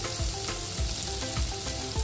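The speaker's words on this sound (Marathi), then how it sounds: "थोडं तेल गरम झाल्यानंतर त्यामध्ये बारीक चिरलेला कांदा टाकून घेऊ." Oil sizzles steadily as chopped onion fries, with a spatula scraping the pan at a regular, roughly half-second beat.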